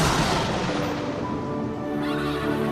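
Chariot horses with bronze hooves neighing loudly amid a rumbling scene of the king of the gods setting off, whinnies sounding close over a dense, continuous din.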